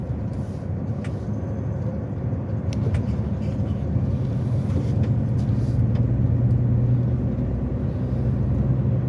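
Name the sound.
car driving on winding mountain road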